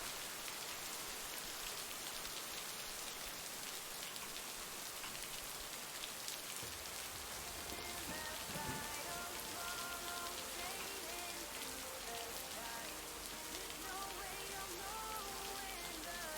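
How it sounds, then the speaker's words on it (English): Steady rain falls on a surface by a lake, a dense continuous patter lasting throughout, with no voices heard. "As opposed to all the rain and thunderstorms."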